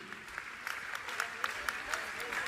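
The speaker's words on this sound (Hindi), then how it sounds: "तालियां तालियां आपकी बजना चाहिए।" A crowd at a religious gathering in Indore claps steadily, faint and somewhat distant, with a voice speaking over the applause.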